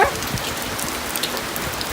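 Steady rain pours onto surfaces in a Bangladeshi village, a dense, continuous patter of drops close by that holds even throughout, with no voices.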